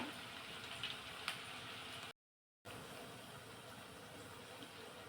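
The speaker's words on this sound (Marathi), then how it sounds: "संपूर्ण भजे आपण तळून घेऊ" White pea fritters (bhaji) deep-frying in oil make a faint, continuous bubbling sizzle, broken by a brief silent gap near the middle.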